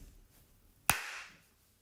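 An improv teacher gives one sharp, close hand clap as a signal, standing alone against a quiet room and followed by a short fading ring.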